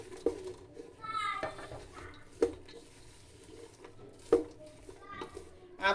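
A spoon scrapes and clinks against a pot while homemade jaggery popcorn is stirred, sharp metallic taps recurring every second or two beneath a woman's steady speech.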